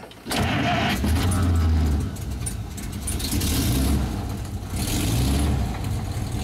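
A 1934 Chevrolet speedster's engine cranks and catches, then idles with a steady mechanical rumble and brief revving, close by.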